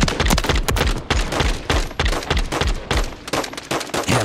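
A new gun firing in a sci-fi shooter: rapid, evenly spaced loud shots about every quarter second, each with a deep thump, forming a fast rolling, purr-like burst with no talk.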